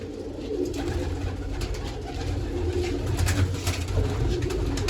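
Pigeons coo in low, throaty, repeated calls over a continuous background rustle, with several birds close by.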